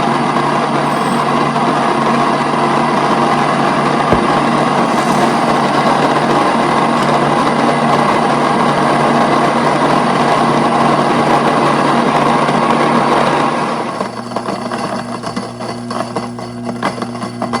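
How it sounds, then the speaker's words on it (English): A home grain mill grinds two cups of soft white wheat with a loud, steady whirring roar that runs unbroken for most of the clip, then cuts off abruptly near the end, leaving only faint rattling and room noise. "I'm going to start by milling 2 cups of soft white wheat."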